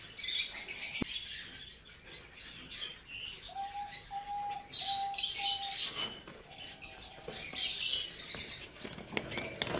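Diamond doves in a breeding aviary give soft, sustained cooing notes alongside scattered chirps and tweets from other birds, with occasional wing flutters, at moderate distance and with no talking.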